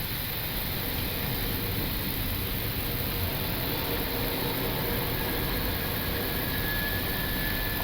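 Steady broadband roar of an Avianca Airbus A320's engines and airflow heard from inside the cockpit on approach to Pasto, Colombia, continuous and even throughout with no talk.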